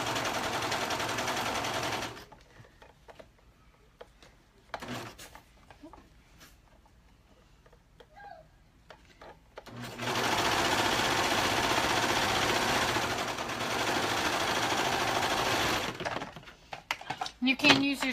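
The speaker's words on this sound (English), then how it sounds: "You can use your sewing machine to do that" A sewing machine runs in two loud, steady stitching bursts, the first brief and the second several seconds long, with a quieter stretch of small clicks and handling noises between them.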